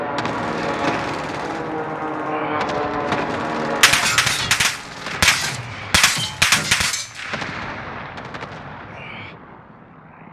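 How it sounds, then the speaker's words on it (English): Airstrike in Call of Duty: Warzone during a quads match, with several heavy, loud blasts in quick succession midway over a steady rumble of battle noise and a brief grunt. "Allied precision airstrike incoming."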